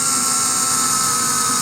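A small 4-volt cordless drill pre-drills a hole, giving a loud, steady high-pitched motor whine throughout the short burst, close to the microphone with no speech.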